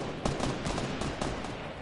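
Rapid bursts of gunfire crackle through a video game firefight amid explosions, with dense overlapping shots at steady loudness and no talking.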